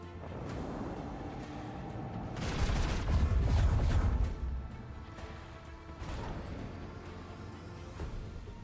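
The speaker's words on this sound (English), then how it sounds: "Let the macro cannons sing their twisted song. Engage the macro cannons." Macro cannons firing in the Warhammer 40,000: Rogue Trader video game, a heavy booming volley that swells midway and then rumbles on with further blasts and crashes over game noise.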